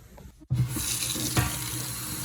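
Corroded parts from a vintage mountain bike are rinsed under a running tap in a sink: a short near-silence gives way to a sudden, steady rush of water splashing close by.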